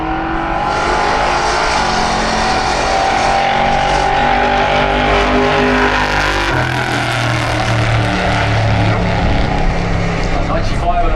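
Drag racing cars launching side by side at Santa Pod, a loud sustained engine roar with rising and falling pitch over several seconds, with a commentator's voice over it.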